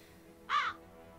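A single raven caw in the video game Lucius, one short harsh call rising clearly above a quiet background, fairly close and alone.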